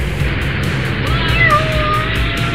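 A cartoon kitten on a toy fire-rescue show gives a short, high, drawn-out meow at close range, heard alone over a light background score.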